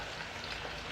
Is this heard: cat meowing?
no